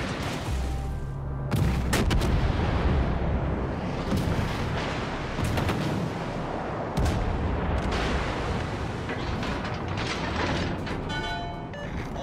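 Naval artillery fire in the World of Warships: Legends video game: loud, booming salvos and heavy blasts rumble continuously, with mechanical clanks and rattles between shots and no speech.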